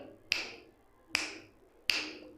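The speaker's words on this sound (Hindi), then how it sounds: "चुटकी बढ़िया बजाता हूँ मैं।" Three crisp finger snaps spaced roughly evenly apart, close and fairly quiet, each with a short ringing decay and no talking.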